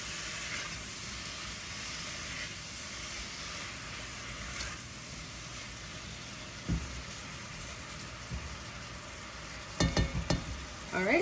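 Zucchini "apple" crisp filling for a keto dessert is mixed in a pan, a faint steady scraping and sizzle that runs throughout, with a few louder knocks near the end.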